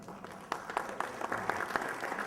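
Scattered audience clapping at a history talk about John Brown, fairly faint and sparse at first, then thickening into a modest patter of claps.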